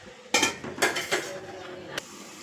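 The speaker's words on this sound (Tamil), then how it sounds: "அதுக்கு மூடியை போட்டுடலாம்." A metal lid clanks onto a cooking pot, with a few sharp clatters close by and a final light clink, then quiet.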